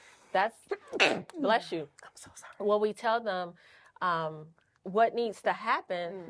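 A single sharp sneeze bursts out early in a conversation, with people talking steadily before and after it at close range.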